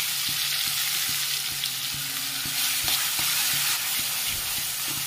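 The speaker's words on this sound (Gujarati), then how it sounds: "ટામેટા ડુંગળી અને લસણ ને મરચા કર્યા છે એ આપણે અંદર નાખી દઈશું" Tomatoes, onion, garlic and chilies sizzle steadily in hot oil with bay leaf, asafoetida and turmeric, with intermittent scraping and clanks of stirring close by, loud and continuous.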